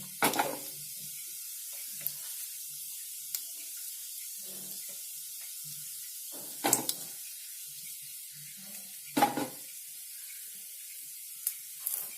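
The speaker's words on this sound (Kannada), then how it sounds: "ಒಗ್ಗರಣೆಗೆ ಒಂದು 4 ಉದ್ದಿನಬೇಳೆ, ಅದು ಅದ್ರ ಘಮ ಚೆನ್ನಾಗಿರುತ್ತೆ, ಅದಕ್ಕೋಸ್ಕರ ಉದ್ದಿನಬೇಳೆ ಹಾಕ್ಕೊಡ್ತೀನಿ" Urad dal sizzles in hot oil as tempering for radish chutney, a soft steady fizz under quiet kitchen ambience. A few sharper crackling bursts and clatters come and go.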